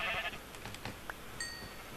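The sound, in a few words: sheep bleating in a video game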